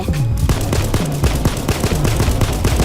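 Rapid automatic gunfire from the video game PayDay 2, loud and sustained with dense repeated shots and bursts throughout, no talking.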